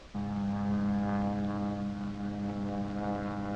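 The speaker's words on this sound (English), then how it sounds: "That's why treatment from the air stops when the airplane approaches the trees." A propeller airplane spraying fire ant treatment drones overhead with a steady, even engine hum that holds at moderate loudness, heard alone without voices.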